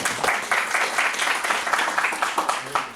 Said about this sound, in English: give her a round of applause for coming back